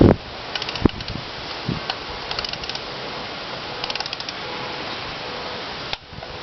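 A ratchet tightens the spark plugs on a 2016 Jeep Patriot, with short bursts of sparse metallic clicks over a quiet background and no voices.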